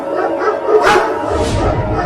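Two dogs barking and yipping close by in a noisy scene, with broadband bursts around the middle and end of a continuous mix that likely carries voices.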